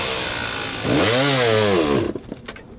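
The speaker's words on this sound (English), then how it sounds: "That bike don't want to go no more." Motocross bike at a King of Motos race revs in a strained rise and fall, the engine note swelling then sagging before it bogs down and cuts out into faint clatter.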